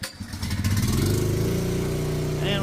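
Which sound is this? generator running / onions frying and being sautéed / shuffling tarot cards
generator running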